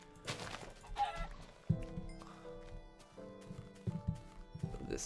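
Minecraft chickens cluck in short bursts amid soft footsteps and clip-clop hooves, with a background music tone holding steady.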